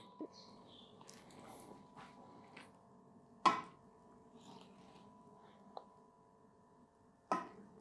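A lamb leg is being jointed on a board, giving a few sharp, isolated chops and cracks spaced seconds apart, with faint handling noises between them in a quiet kitchen.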